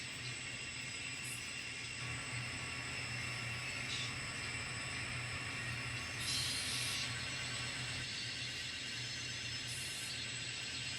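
An N scale model train runs steadily, a constant low rumble and whir with faint high whine, even and unbroken from start to end, no talking.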